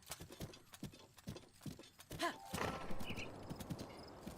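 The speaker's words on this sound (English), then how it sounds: "can actually summon my horse here" Hoofbeats of a summoned horse clip-clop across the ground in Breath of the Wild in Master Mode, a repeated near trotting rhythm with a brief whinny partway through and game ambience underneath.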